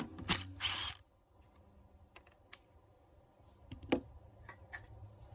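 A screw is backed out of an HVAC unit during a teardown. A loud burst of clattering opens the clip, followed by sparse ratcheting clicks close to the listener.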